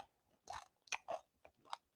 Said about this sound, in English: I'm chewing on set.